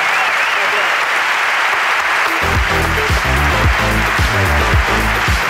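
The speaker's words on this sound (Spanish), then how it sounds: "Aplauso para la ruina de Alfonso." A live podcast audience claps in a steady loud roar, joined partway through by a bouncy music bed and a voice talking over the applause.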